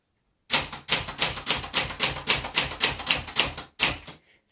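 A 1962 Olympia SF Deluxe portable typewriter is typed on at a close range, with about a dozen loud, evenly paced key strikes in a steady rhythm, a short pause, then one more strike before stopping.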